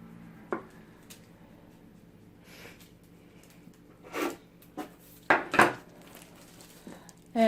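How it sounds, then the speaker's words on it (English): Cake being broken by hand into pieces and dropped into a bowl for cannabutter cake pops: soft crumbly tearing with a few light knocks and scrapes against the bowl, close and fairly quiet, irregular over several seconds, no talking. "we are going to just break this up, break it up into pieces and into our bowl"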